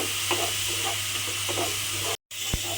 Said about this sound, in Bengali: রসুন বাটাটা দিয়ে একটু আমি তেলের মধ্যে নাড়াচাড়া করে নেব